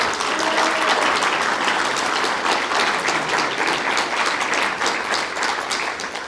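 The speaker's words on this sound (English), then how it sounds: "they deserve a round of applause" Sustained applause from an audience at a welcome event honoring the organising committee, a steady dense wash of many hands clapping at close range, loud and continuous with no talk.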